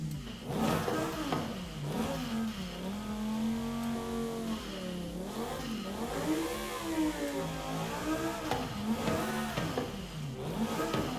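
A Lamborghini V12 in a racing video game revs hard through a racing exhaust, its pitch sweeping up and down continuously at steady loud volume with no pauses.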